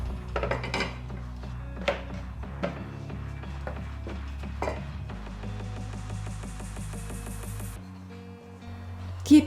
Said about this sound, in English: Keep rolling it until the sheet becomes coin thick.